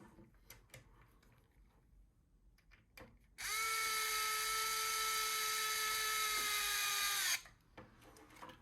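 A powered 1.5 mm hex driver runs M2 x 8 socket head screws into a 1/10 scale RC utility light trailer, giving one steady, close motor whine for about four seconds, with quiet handling before it.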